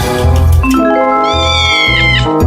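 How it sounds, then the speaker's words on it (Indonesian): A cat meows loudly and insistently close by, several drawn-out, wavering cries in quick succession. "di situ ada kucing"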